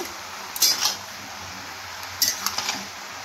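Vegetables being stirred together with turmeric and sugar in a pan for labra, two short bursts of spoon scraping and clinking against the pan over a faint steady background hum.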